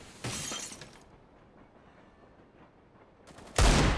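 Gunfire in Counter-Strike on the Train map during a BIG vs NiP semi-final, with a sharp burst near the start, a lull, then a loud crack at the end.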